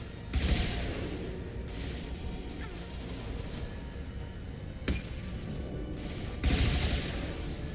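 Weapons fire bursts out in the Mass Effect 2 video game, a few sharp cracking blasts at intervals over a rumbling combat background.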